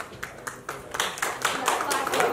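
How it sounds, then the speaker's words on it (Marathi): An audience claps for stand-up comedian Akshay Joshi at a Marathi comedy show, a run of rising, scattered applause bursts mixed with a speaking voice. "उत्तम स्टँडअप कॉमेडियन अक्षय जोशी, जोरदार टाळ्या"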